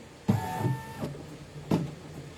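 A computerized embroidery machine runs hands-free, giving two sharp mechanical clunks followed by short whirring stitching runs, close and clear with no talking.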